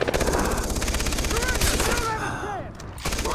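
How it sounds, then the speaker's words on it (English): Rapid automatic gunfire rattles in the video game Far Cry 3, a dense continuous burst of close shots over about three seconds with game sounds mixed in. "Just keep shooting him with a sniper."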